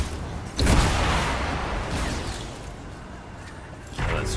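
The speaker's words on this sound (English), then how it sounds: "Explosion." An explosion in the PC video game Anthem hits as a sudden loud boom that decays into a lingering rumble, followed by a second, shorter burst near the end.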